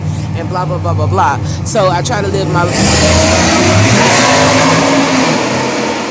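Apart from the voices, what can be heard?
loud vehicle engine revving outside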